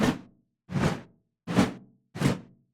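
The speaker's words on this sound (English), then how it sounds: "an object misses them and it whooshes by them" Four quick swishes sweep by in a regular rhythm, each a brief airy rush that fades out fast, close by with silence between them: a video game object whooshing past a mouse character.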